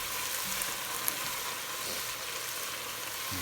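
Onions fry for jambalaya in a pan with a constant, even hiss of hot fat. The sizzle is close and steady, with one faint click partway through and nobody talking.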